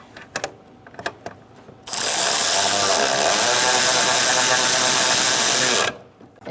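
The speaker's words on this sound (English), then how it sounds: "we're going to use a 14mm socket" A ratchet with a 14mm socket tightens brake master cylinder nuts on a 2000-2007 Ford Taurus, giving a loud, continuous rapid whirring rattle for about four seconds, preceded by a few light clicks and knocks.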